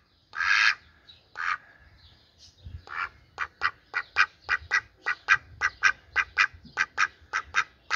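A pet bird out in a yard gives loud nasal quacking calls, two big calls, then a steady run of about fifteen short, evenly spaced quacks, close by and with no voices.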